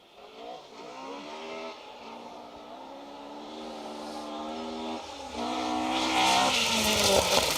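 A Ford Mark 1 Escort rally car pulls away on a stage of the Plains Rally, Welsh Rally Championship, its engine revving hard through rising gear pulls, loud and close, with crowd noise swelling behind it.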